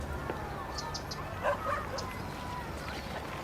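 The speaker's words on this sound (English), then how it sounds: "Is that just a dog playing in the background?" A dog yips and barks faintly in the background, a few short bursts around the middle, under a quiet room tone.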